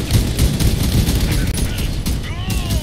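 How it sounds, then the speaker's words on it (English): Shotgun fire in the Crossout vehicle combat game, a dense, loud barrage of blasts and booms running continuously with game noise and a brief dropout midway. "Starting to like the shotguns."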